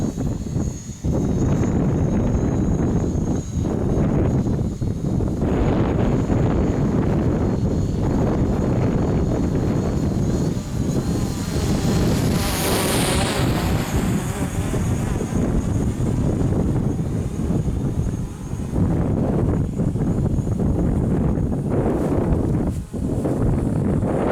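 Wind gusts around a small flying drone outdoors near trees, producing loud, steady blustery rumble across the whole stretch with a faint rising whir of the rotors partway through and no talking.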